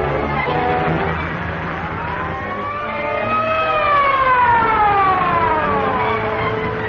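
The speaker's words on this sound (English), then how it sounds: "Police car trailing." A police car siren in an old horror film wails loudly, its pitch rising and falling in a long sweep over engine and road noise, with no voices.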